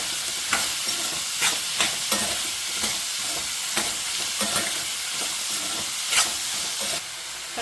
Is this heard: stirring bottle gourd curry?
yes